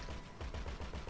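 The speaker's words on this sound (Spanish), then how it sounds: "Escucho tiros por la retaguardia" Rapid, rhythmic bursts of gunfire at a milsim airsoft game, like a distant automatic weapon, in a quick string of muffled shots.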